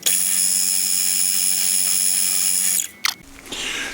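A drill bores a 5.2 mm hole in metal on a lathe setup, a steady loud high whine running nearly three seconds before cutting off, followed by brief clatter and lower workshop noise.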